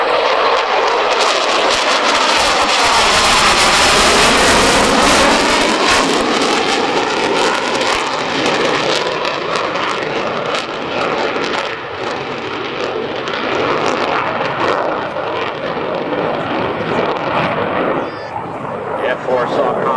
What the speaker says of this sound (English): From your right, ladies and gentlemen, the F-4 Phantom and the dedication pass.